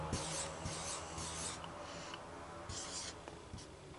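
Pen or pencil writing out the number one million, a soft scratchy rubbing of the tip across paper in several short strokes, close and quiet, with no talking.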